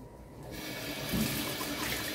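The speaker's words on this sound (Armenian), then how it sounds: "հետո հոսող ջրի տակ մաքուր պարզաջրում եմ։" Dishes are rinsed under a running kitchen tap, giving a soft, steady stream of water that rises a little partway through, heard alone and fairly quiet.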